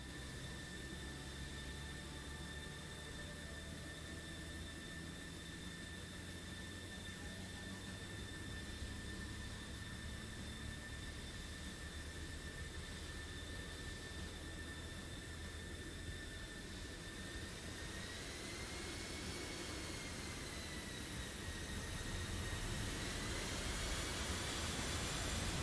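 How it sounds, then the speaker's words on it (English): Jet aircraft taxiing toward runway 09 in a flight simulator, a steady loud engine whine with high tonal lines over broadband rumble, rising in pitch and loudness near the end as power increases; no talk. "Zod is now taxiing his way to the runway, same as Mavich."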